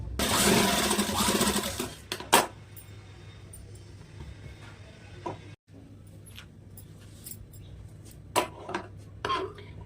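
A sewing machine stitches a princess-cut blouse in a short burst of rapid whirring at the start, followed by quiet handling clicks and taps with a few brief knocks.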